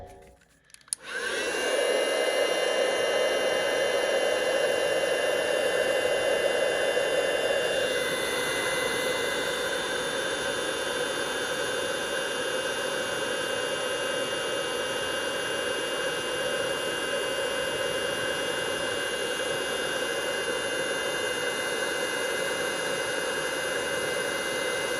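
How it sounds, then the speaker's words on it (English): An embossing heat tool blows a steady, loud, whooshing hiss while melting white embossing powder on a stamped card; the motor drone holds constant for the whole stretch, with one slight shift in tone partway, and no voices. "let me just grab the heat tool here and we'll heat this up"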